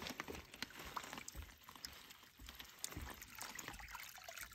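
Water trickling and splashing from a filtration pipe set in the ground at a backcountry camp, a faint, steady dribble with small irregular splashes, heard alone outdoors.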